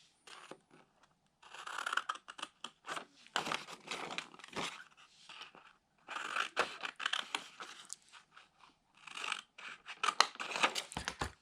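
Close, crisp snips of scissors cutting smooth curved lines through paper, coming in quick runs of strokes with short pauses between them and no talking.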